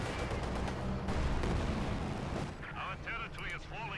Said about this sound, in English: Field gun firing away.